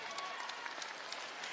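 Crowd applauding and cheering at a women's basketball game, a steady wash of clapping in a large arena, fairly faint and continuous.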